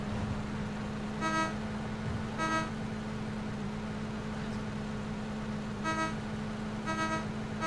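A vehicle horn honking in the video game PUBG: short tonal honks arriving in two pairs, a couple of quick blasts early and another two later, loud over a low steady engine hum.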